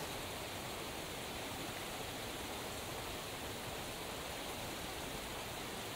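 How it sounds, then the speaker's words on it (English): Continuous roar of rushing water pouring from Luggan Dam in Scotland during a heavy release after overnight rain, a dense, steady wash of noise with no pauses. "Offloading so much water because there's been so much rain overnight"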